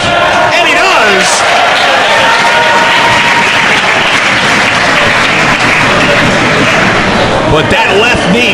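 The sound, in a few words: wrestling crowd reacting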